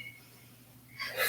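An inhale during an abdominal floor exercise, a short breathy rush of air that swells near the end of the moment, close and fairly quiet with no talk over it.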